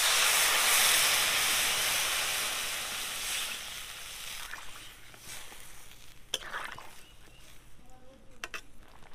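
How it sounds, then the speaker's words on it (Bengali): Water poured into a hot pan of fried fish roe sets off a loud, broad sizzling hiss of steam that gradually fades over several seconds into softer crackles and bubbling. "এবার জল দিয়ে দেবো।"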